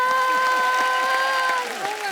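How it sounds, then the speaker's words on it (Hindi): A studio audience on a Hindi TV show applauds dancer Mukti Mohan, a short burst of clapping under a sustained musical tone and voices, fading slightly near the end. "जोरदार तालियां मुक्ति के लिए।"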